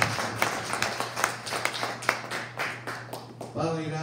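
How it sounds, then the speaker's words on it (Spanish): A church congregation claps in a loud, fairly rhythmic series of beats with a steady hum beneath, and a voice starts speaking as the clapping ends. "Dale un aplauso fuerte a Jesús."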